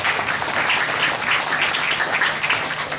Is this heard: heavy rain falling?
no